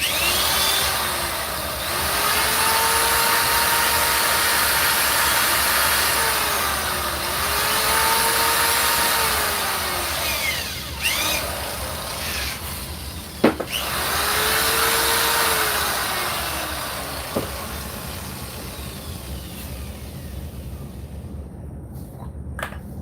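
A cheap Harbor Freight hand drill clamped as a homemade lathe whirs steadily, spinning a silver dollar coin ring. The motor pitch sweeps up and down as it is throttled, with a few sharp knocks and a quieter stretch near the end.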